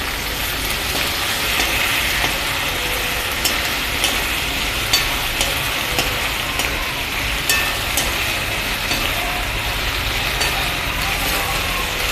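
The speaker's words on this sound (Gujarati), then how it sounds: "હવે આપણે ગુંદાને વઘાર કરી લઈશું." Spices sizzle and crackle in hot oil with a constant hiss while tempering gunda (glueberry) fruit, punctuated by occasional sharp pops and light clicks from a pan nearby.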